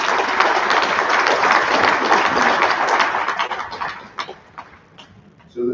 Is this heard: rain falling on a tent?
no